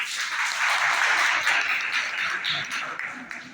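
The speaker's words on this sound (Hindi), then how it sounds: "इसके लिए जोरदार तालियां।" A crowd at an inter college event claps loudly and steadily, a thick wash of applause that holds for a few seconds before tapering slightly.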